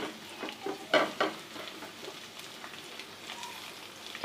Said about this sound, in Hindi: तो अब हम इसको ब्राउन करेंगे प्याज को